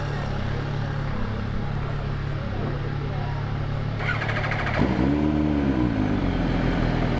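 An MV Agusta Brutale 1000 RR motorcycle engine catches after a starter whine and settles into a loud, close, throbbing idle with slight rises in revs. A person speaks near the start.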